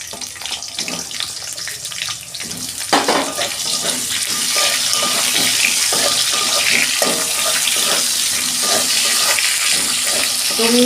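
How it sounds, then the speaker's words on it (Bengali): Potatoes frying in hot oil for a ridge gourd and potato dish, a steady loud sizzle that swells after a few seconds and holds, with scattered clinks and scraping of stirring, no talking. "আলুগুলো আমি একটু ভেজে নিচ্ছি।"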